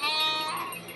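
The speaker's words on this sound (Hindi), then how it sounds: "सारे भेड़ बकरे हैं जो इनके हाँफ रहे हैं" Sheep and goats bleat together in 48-degree heat while being treated, a dense, continuous chorus of overlapping wavering cries at close range, loudest early and easing slightly toward the end.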